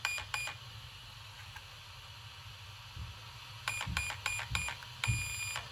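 An Arrma BLX 100 ESC in an RC truck gives out electronic setting beeps while its punch setting is changed: a few quick tones, then a longer run of bright beeps, fairly faint and close.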